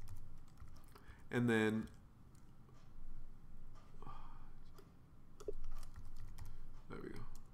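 Quick clatter of typing on a computer keyboard while coding an iOS app, with keystrokes in uneven bursts under a man's brief spoken words.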